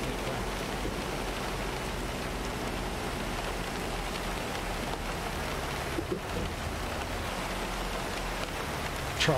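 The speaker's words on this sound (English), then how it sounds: "I'm just slipping in the rain." Steady rain hisses from the American Truck Simulator video game, a dense, even wash of noise that holds at a constant level throughout without any voices.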